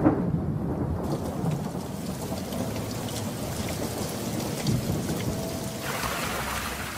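Heavy rain pours down in the Sahel as a thunderstorm arrives, a dense, steady hiss of drops on the ground with low rumbles of thunder rolling underneath throughout.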